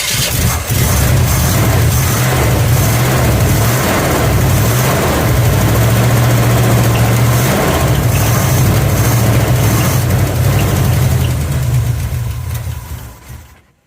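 A 1972 Chevrolet Chevelle V8 with a 3/4 race cam idles loud and close, a deep lumpy rumble holding steady for about twelve seconds before cutting off abruptly.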